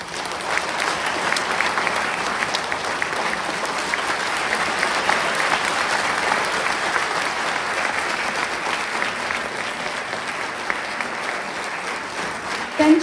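A concert audience applauds a classical Indian singer at the Swaranjali 2025 event, with sustained, even clapping from a large crowd lasting over ten seconds.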